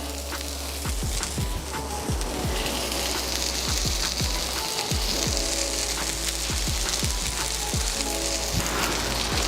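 Burger patties hit a flat top grill and sizzle, a steady crackling hiss that holds evenly throughout, dotted with frequent sharp pops and spits.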